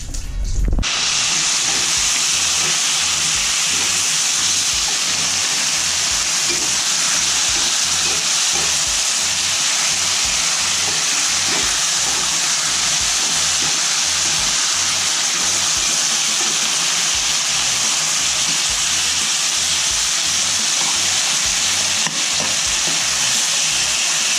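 Filefish and okra frying and simmering in a pot, a steady loud sizzle and hiss with a soft bubbling, pulsing texture underneath, continuous throughout with no talk.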